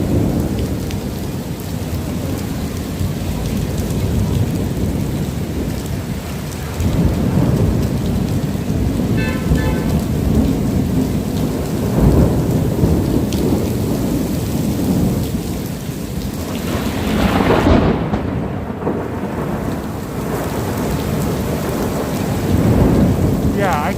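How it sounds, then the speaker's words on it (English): Heavy rain pours steadily on the streets of Tokyo's Yurakucho during a thunderstorm, with deep rolling thunder swelling several times under the downpour and occasional passing traffic. "I can feel the thunder, like it really, like the sound makes, like I can feel the sound of it in the ground."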